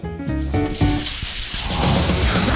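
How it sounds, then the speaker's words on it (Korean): Loud, continuous rough scraping and crunching noise, like noisy chewing close up, with a few musical tones at the start. "너무 시끄럽게 먹어"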